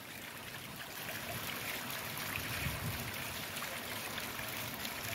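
A repaired backyard pond waterfall runs continuously, a soft, even trickling and splashing of water heard faintly from a short distance with no voices.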